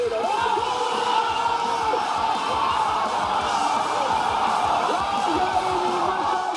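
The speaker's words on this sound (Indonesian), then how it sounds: "Sorak-sorai menggema setiap kali Timnas Indonesia melakukan serangan atau bertahan dari gempuran lawan." Crowd cheering at a public screening of an Indonesia national football team match, a dense, sustained roar of many voices with whoops and yells, loud and unbroken throughout.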